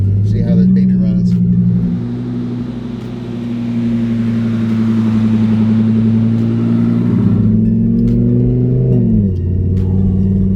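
A supercharged Audi R8 engine drones loud and near while driving, a steady low growl that swells and dips with the throttle, with people talking over it.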